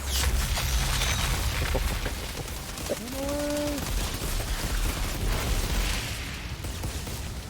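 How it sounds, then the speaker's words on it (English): Enemy mortar fire in the Outriders video game, a steady barrage of booming, rumbling blasts with a continuous loud low-frequency roar and a brief tonal whine partway through, with no talking. "all of these enemies have the stupid mortar fire"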